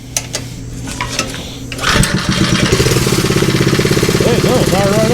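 A small minibike engine on choke cranks, then fires about midway and settles into a rapid, loud, pulsing putter; a voice speaks briefly before it starts.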